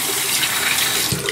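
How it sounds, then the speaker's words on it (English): Warm water runs from a tap in a steady, close hiss while wetting a shaving brush, with a slight change in the splash near the end. "let's just wet this down with some warm water"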